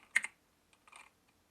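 A few quiet taps on a computer keyboard while setting up a stress test on a GPU build, a short cluster of clicks followed by a softer scattered pair, close and faint with no talking.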